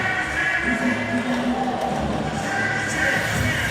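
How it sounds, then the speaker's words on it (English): A crowd cheering at a VCW tag team championship wrestling match, a continuous roar of voices filling the arena at steady volume with no clear breaks. "They got a cheering section."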